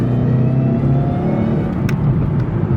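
A supercharged 2013 Mustang GT with a 5.0 V8, otherwise stock, revving hard in a loud, steady, close-up rumbling roar with a faint whine on top, no talking.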